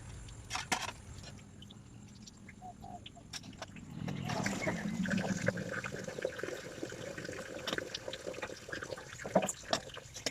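Cold water splashes and runs as someone washes up in the morning, a close, steady wash of noise that swells partway through and carries on to the end.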